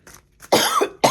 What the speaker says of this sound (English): I keep coughing out.